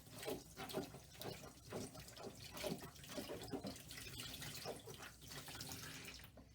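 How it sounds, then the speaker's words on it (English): A wet felted bowl is rinsed under cold running water, a quiet, continuous splashing and trickling with faint pulses as the felt is pressed and turned. "just get that vinegar out as much as we can by rinsing it again in cold water"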